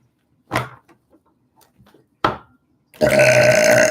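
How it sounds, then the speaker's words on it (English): Two loud, abrupt burps from a person, each short and throaty with quiet gaps between, followed by a sudden steady burst of louder tonal sound at the end. "Spirit makes me burp for those of you who are unaware."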